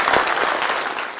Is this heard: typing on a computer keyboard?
no